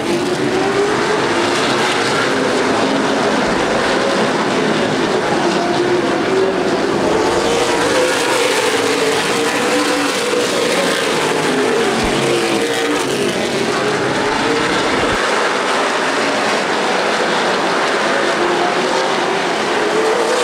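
Race cars run under green flag racing at Anderson Speedway during a CRA Super Series race, engines roaring continuously and loudly as the pack passes, with rising and falling pitch.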